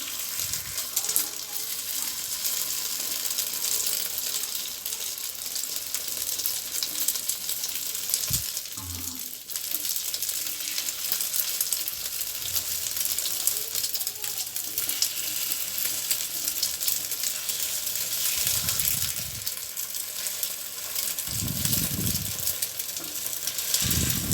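Flipped fried eggs cooking in a pan for an egg curry, a continuous soft sizzle throughout with occasional low knocks and spatula bumps as the eggs are turned and pressed.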